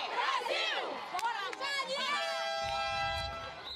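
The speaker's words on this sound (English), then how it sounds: "So the crowd really getting into it at North Greenwich Arena." A crowd at a women's wheelchair basketball match between Brazil and Canada at North Greenwich Arena cheers and shouts loudly and continuously, with excited voices and whistles throughout.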